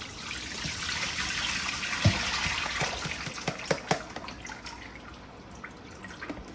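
Freshly washed chicken pieces draining after rinsing for Jamaican brown stew chicken, with a steady wash of running water and scattered close, distinct drips landing one by one.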